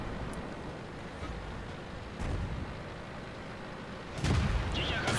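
Artillery shells landing in a tank video game with Chi-He tanks: two muffled booms a couple of seconds apart over a steady engine-like rumble, the second impact louder and closer, with a faint crackle after.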